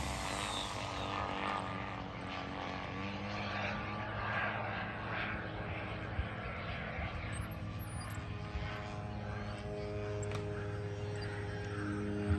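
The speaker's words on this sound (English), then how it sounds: "That's such a weird looking airplane, Mark." A radio-controlled model airplane, a large unusual-looking model at an RC flying event, drones overhead with a steady propeller engine hum that holds throughout, fairly near and continuous, with outdoor ambience and no talk.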